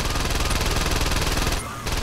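A vehicle-mounted weapon in Saints Row 2 sprays rapid, continuous machine-gun fire, loud and close, broken by a brief pause before the shots resume.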